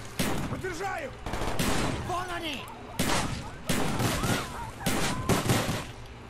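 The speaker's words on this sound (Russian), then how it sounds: "Хочу вам показать стрельбу по-ковбойски" Paired pistols fire in rapid volleys in Call of Duty: Black Ops during a rooftop fight, loud clustered bursts of shots separated by short pauses.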